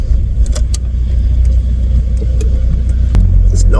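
Interior rumble of a VW Passat TDI diesel with a replacement turbo accelerating on the road, a steady low drone with small rattles and a faint high whistle, engine pulling harder toward the end.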